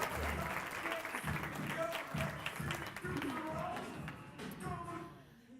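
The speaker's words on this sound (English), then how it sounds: "Can we give these two a round of applause" Audience applause at a campus leadership event, a sustained wash of clapping with voices murmuring beneath it, easing slightly toward the end.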